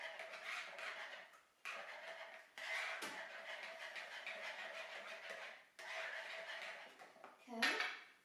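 Lemon zest being stirred into lemon pie filling in a bowl, soft rhythmic scraping and clinking of a utensil against the dish, close and quiet, ending with a brief sharper clatter.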